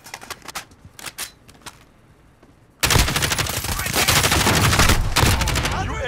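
Marksman rifle fire in Call of Duty starts as a few sharp, scattered shots, then gives way to a loud, sustained barrage of rapid gunfire lasting several seconds.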